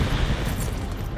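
A Hellstorm missile strike detonates in Call of Duty Black Ops 6 multiplayer, a loud rumbling blast that rolls on for about a second, dense and low with a sharp crack near the end.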